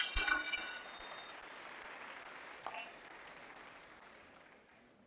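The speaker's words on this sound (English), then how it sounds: "Let's give Nicola a round of applause too as she comes down." Applause from a school presentation day assembly, strongest at the start and gradually fading away over several seconds.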